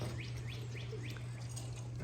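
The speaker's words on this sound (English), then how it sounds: "I noticed that there's a lot of stray birds flying around," Stray birds fly around a pigeon loft during racing pigeon training, giving a few faint, quick chirps spaced apart over a steady low hum, with no one talking.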